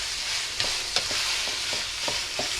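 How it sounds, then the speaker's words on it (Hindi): Ground chicken keema sizzles in a pan while a spoon stirs it, a continuous frying hiss broken by about six sharp scraping strokes at irregular intervals, close and fairly loud, with no talk. "इसे मैं तकरीबन जब तक इसका कलर नहीं चेंज हो जाता मैं इसे उस वक्त तक फ्राई करूँगी।"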